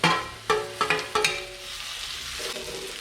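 Onions frying in oil with turmeric and green chilies, stirred a few times with sharp scraping knocks in quick succession over a soft, steady sizzle.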